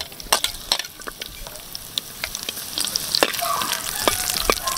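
Meat sautéing in a pan, a dense crackling sizzle with frequent spatter pops and stirring scrapes, close up and building slightly louder toward the end.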